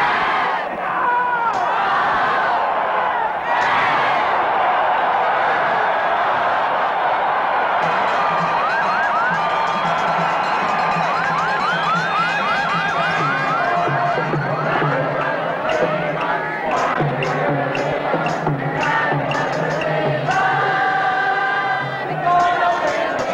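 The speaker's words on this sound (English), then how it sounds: "Flag-waving, vociferous crowd of Cosmos faithful lends a European flavor to the North American Soccer League Championship match." A huge, vociferous stadium crowd of New York Cosmos soccer fans roars continuously at the Soccer Bowl 80 North American Soccer League championship match, with chanting, whoops and horn-like tones rising from the mass.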